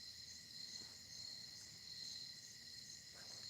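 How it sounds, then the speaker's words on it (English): A steady, high-pitched chorus of crickets trills continuously at a moderate distance, with no other sounds standing out. "Crickets."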